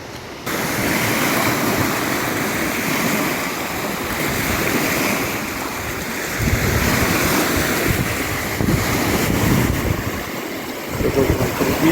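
Storm surf pounds a shore at night beside a campfire on a feeder-fishing overnight trip, a continuous loud roar of breaking waves with heavy wind buffeting the microphone and no voices.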